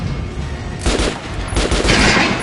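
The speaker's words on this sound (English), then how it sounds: "Try shooting from the center of the regular dummy's chest." Shots at a training dummy in the video game Metro Last Light come as loud, close bursts of rapid gunfire in two clusters over a rumbling background, with no talking.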